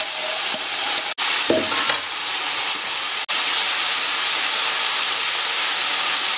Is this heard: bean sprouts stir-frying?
yes